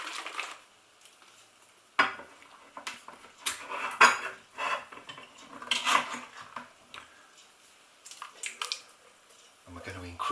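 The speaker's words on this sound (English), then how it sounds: "we're going to add our tomatoes" Two tins of plum tomatoes tip into a pan for a vegetarian puttanesca-style pasta sauce, with sharp metallic clinks and scrapes, soft pours and stirring in irregular bursts, close by and fairly quiet.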